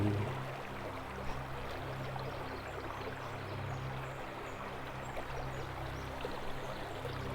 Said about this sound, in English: It's nice and relaxing, listening to the flowing water, surrounded by this lush greenery.